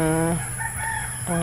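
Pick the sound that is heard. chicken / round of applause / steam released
chicken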